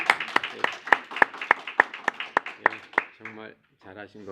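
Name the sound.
audience applause in church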